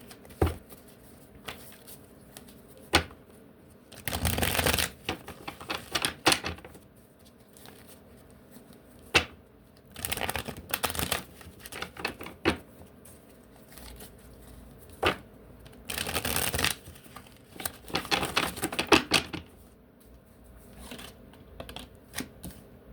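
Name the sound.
shuffling a deck of oracle cards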